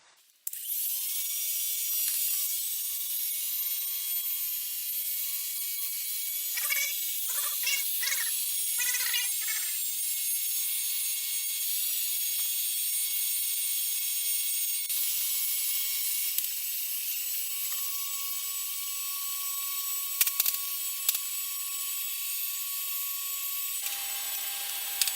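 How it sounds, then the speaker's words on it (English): A heat gun running with a steady high whine while a scraper works a glued decal loose on a 1910 Singer treadle sewing machine, with short clustered scraping clicks and occasional knocks over the constant hum. "By using the heat gun and the scraper, we were able to break this loose from its glue."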